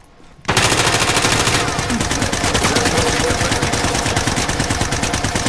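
Call of Duty Warzone video game gunfire: after a brief quiet moment, a sustained rapid automatic burst of machine-gun fire starts up and hammers on loud and steady to the end.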